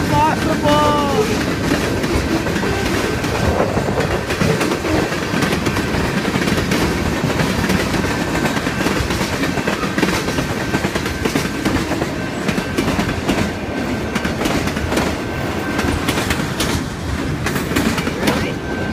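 A freight train led by two CSX locomotives rolls steadily past at close range, with loud continuous rumbling and clickety-clack of wheels on rail throughout, along with a faint background voice.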